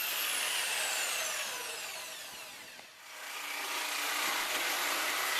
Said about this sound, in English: With the correct blade, you can also cut the modern resin materials like corian